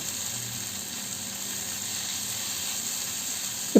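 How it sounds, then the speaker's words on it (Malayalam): Coriander leaves for an onion chutney being sautéed in a pan, with a soft, steady sizzling hiss close by and a brief clatter at the very end. "മല്ലിയിലേക്ക് ഒന്ന് സോഫ്റ്റ് ആവുന്നത് വരെ വഴറ്റി കൊടുക്കാം"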